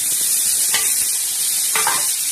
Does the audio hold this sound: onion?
yes